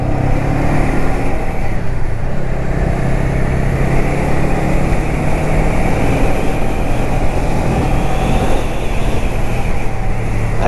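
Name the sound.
Honda Rebel 500 motorcycle riding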